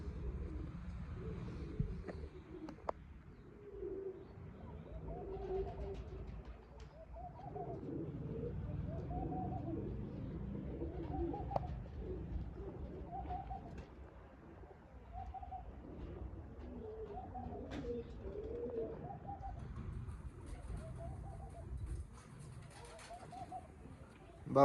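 Soft, repeated pigeon coos in a steady rhythm, fairly close, with faint chirps and a quiet background hum.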